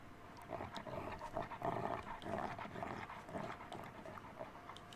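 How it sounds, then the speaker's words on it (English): A zombie dog prowling outside in the 7 Days to Die video game: faint, muffled panting with low growling snarls in uneven bursts, heard from a distance, no talk. "I just heard a zombie dog."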